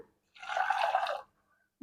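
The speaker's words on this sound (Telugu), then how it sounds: "దీంట్లోకి 1 గ్లాస్ అయితే నీళ్ళు అయితే పోసేసుకుంటున్నాను" A glass of water is poured into a cooking pot while making a chicken and broad bean seed curry, giving one steady, close splashing gush lasting about a second, with silence before and after.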